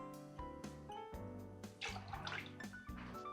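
Simple syrup is poured into an amaretto sour cocktail as a faint, trickling liquid pour with small drips. Quiet and close, with no speech.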